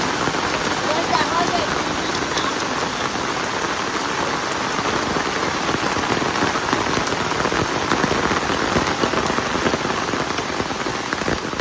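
Steady monsoon rain falls hard and close, a dense unbroken hiss with heavy drops spattering on the ground and surfaces, continuing without a break throughout.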